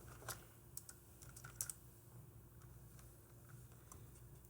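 Typing on a computer keyboard at a drawing desk, a scattered run of faint, close key clicks and taps with short pauses over a low steady hum, no talking.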